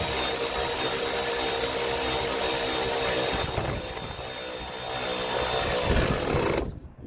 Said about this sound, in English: See if we can fit the power ratchet in there.